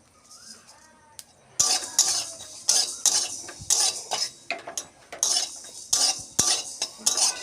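Whole spices are stirred in a dry pan, a spatula scraping and clinking against the metal in rapid repeated strokes with a rattling, gritty texture, fairly close and loud.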